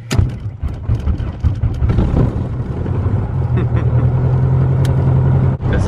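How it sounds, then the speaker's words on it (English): A small airplane's engine drones steadily, building in strength as it runs up for takeoff, a loud low rumble that dominates throughout with a brief dip near the end. "About to take off in the smallest airplane I've ever been in my entire life."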